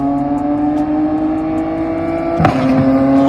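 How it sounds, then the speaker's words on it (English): A 2025 Yamaha R9 with a Dominator GP3 full-system exhaust and ECU flash holds a steady, loud engine drone, then a single sharp exhaust pop bursts out on a quick-shift near the end, with the engine note continuing after. "Every time you hold the RPMs consistent for about 6 to 7k RPM and you use the quick shifter to shift, you hear a loud ass pop."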